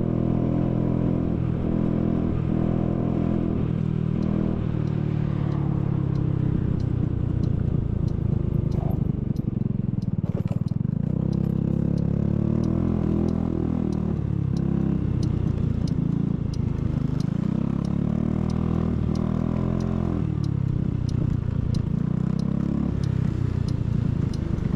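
Motorcycle fitted with a loud exhaust pipe riding through a Japanese street, a steady engine drone with rumbling low tones rising and falling throughout, close and fairly loud, no talking.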